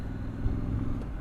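A 2021 Triumph Street Scrambler being ridden, its engine giving a steady low rumble with gearbox drone, close and continuous, with no talk over it.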